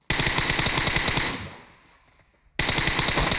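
Rapid automatic gunfire in the video game PUBG Mobile, loud close bursts that cut off, leaving a fading echo before another burst starts abruptly.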